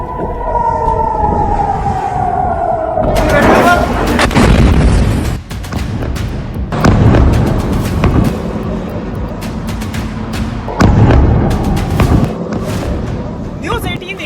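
Iranian missile strikes over Israel: a wailing siren gives way to several loud booming explosions in sequence, with crackling bursts and a voice speaking over the din.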